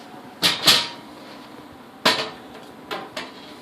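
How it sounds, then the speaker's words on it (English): A screwdriver prying up the lid of a paint can gives a few sharp metallic clicks and pops, two close together, then more after a pause. They are fairly close and sit over a quiet background. "slowly pry the edges. That's all you need to do to get the paint open."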